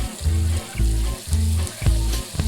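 A steak frying in a pan in the cooking video game Overcooked, shown on a giant screen: a pulsing loop of sizzle bursts, about four rhythmic swells of hiss and crackle, moderately loud and heard without talk.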